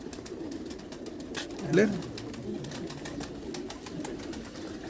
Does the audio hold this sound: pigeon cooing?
yes